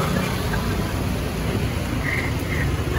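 Steady heavy rain hisses and patters continuously, a dense wash of sound with no voices.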